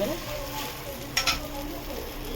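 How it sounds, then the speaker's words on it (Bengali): A coriander and garlic paratha fries in butter with a soft, low sizzle and a couple of brief scraping sounds midway. "করে নিয়ে এভাবে ভাজছি।"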